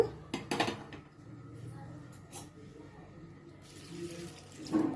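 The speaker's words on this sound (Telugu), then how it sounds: "కుక్కర్లో ఒక టీ గ్లాస్ నిండా వాటర్ పోసి గ్యాస్ మీద పెడదాము" A tea glass of water is poured into a pressure cooker with a faint, splashy trickle. Clinks of metal and water knocks sound at the start and end.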